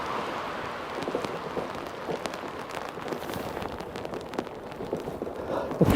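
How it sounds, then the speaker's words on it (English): Heavy rain falling during a bicycle ride through Amsterdam, a dense steady hiss with scattered patters and drops striking surfaces close by, continuous and moderately loud, with wind-like rumble underneath. "And it's raining a lot."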